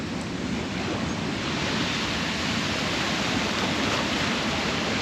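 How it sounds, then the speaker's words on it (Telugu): Heavy water pours steadily over Mylavaram Dam, a constant broadband roar like a waterfall, loud and unbroken with no voices. "డ్యామ్ యొక్క వాటర్ ఫ్లో అయితే ఈ విధంగా అయితే ఉంది మనకు"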